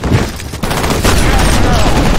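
A grenade explodes in the FEAR Combat video game amid a burst of gunfire, with heavy, loud booms and crackling blasts packed tightly together over a couple of seconds.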